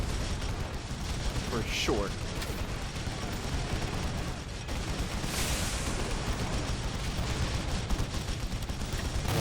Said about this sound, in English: The mortar battery back here is opening fire.